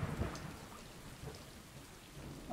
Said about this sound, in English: the thunder noises are getting a little bit loud